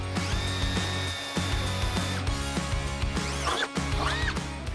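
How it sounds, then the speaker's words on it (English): Power drill with a quarter-inch bit boring through a Jeep Wrangler Rubicon fender, loud whining motor with repeated bursts and pauses, pitch rising and falling as it cuts, close up. "Now we're going to actually use a quarter inch drill bit."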